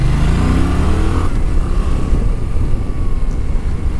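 Yamaha Tracer motorcycle climbing uphill through vineyards, its engine note rising and holding steady under load, loud and close with no talking.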